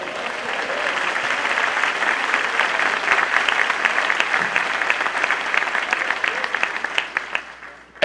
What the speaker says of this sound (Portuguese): Ao Senhor um aplauso, por favor.